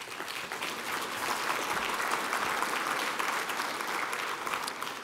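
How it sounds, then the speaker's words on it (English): A conference audience applauds a research group from Ann Arbor for 25 years of pathology work; dense, even clapping from a large crowd holds steady throughout, moderately loud with no voices over it. "I think we all deserve to give them a round of applause"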